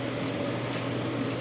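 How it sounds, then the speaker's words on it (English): Steady ventilation exhaust fan running in an auto repair shop, a constant broadband hum with low rumble, continuous and unchanging, no voices. "you might be able to hear the fan right now running in the shop"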